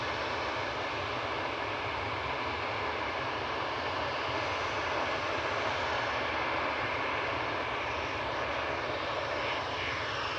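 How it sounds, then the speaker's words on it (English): An EasyJet Airbus A320 Classic jet departing Manchester Airport on a Dubrovnik flight gives a loud, steady broadband engine roar that holds for the whole stretch with no voices. "EasyJet to Dubrovnik going next. It's GEZWR, an A320 Classic with flight"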